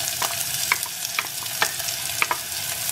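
Chopped onions sizzling in hot oil in a pan for a South Indian tomato kulambu, a steady close frying hiss with a few light clicks of a spoon stirring, no voices.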